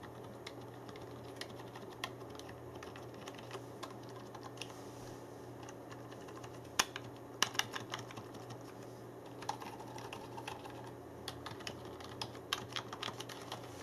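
Soft, muted typing on a SteelSeries Apex low-profile mechanical keyboard, quiet keystrokes in irregular bursts with a few sharper clicks, no talking.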